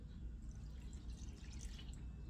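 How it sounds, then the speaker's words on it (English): Lemon water poured into a bowl of flour mixture gives a faint, steady trickle and patter of liquid for a couple of seconds over low room rumble, with no talk. "Now, in your flour mixture here, you are going to pour this water,"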